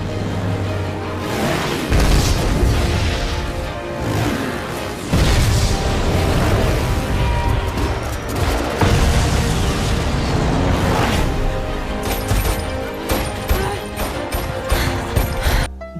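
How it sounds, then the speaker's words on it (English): An excerpt from the Mad Max: Fury Road film soundtrack is loud, dense and continuous, driven by heavy booming percussion and thick layered instrumentation that surges throughout, with no speech. "especially since Fury Road sounds like this"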